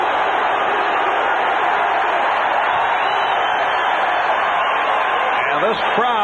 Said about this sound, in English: And this crowd is back into it.